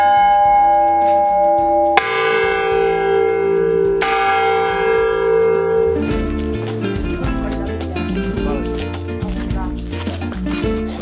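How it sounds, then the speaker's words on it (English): A church bell tolls loud and close at five o'clock beside an old hilltop church above a valley in rural Catalonia, Spain, with strong ringing strikes spaced about two seconds apart, then a denser flurry of faster peals. "Waiting for the bell to ring, it's 5 o'clock"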